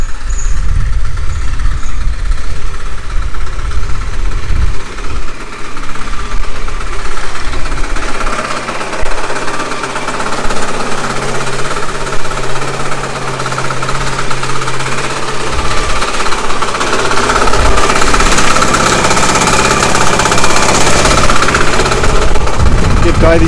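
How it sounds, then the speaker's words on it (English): An excavator engine runs at a house construction site in the Philippines with a loud, close, steady diesel rumble and rattle, punctuated by knocking and clanking, and briefly steadier in the middle. "Let's go see what the excavator's doing right now."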